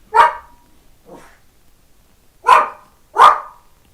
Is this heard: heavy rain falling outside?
no